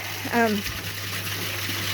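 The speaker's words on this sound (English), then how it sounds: "I hope you can hear me over the top of that water flowing. It's quite loud, but that's aerating the water beautifully." Loud, steady rushing water flows through an aquaponics system, aerating the water in a constant broad gush that fills the whole moment, with a brief vocal sound near the start.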